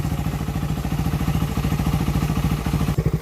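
A Suzuki Raider 150 motorcycle engine runs after its carburetor hose was replaced, a loud, close, even idle putter with regular rapid pulses that holds steady before a brief change near the end.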